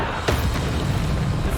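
Bombarda spell explosion in Hogwarts Legacy, a dull, booming blast with a short sharp onset followed by a rumbling tail, loud and close over steady background noise.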